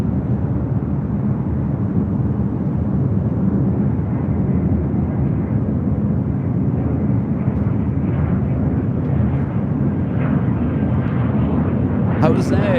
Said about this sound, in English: Next takeoff here on the north side is American Airlines Flight 2388, heading to Las Vegas on a